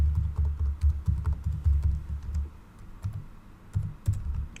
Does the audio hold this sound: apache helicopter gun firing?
no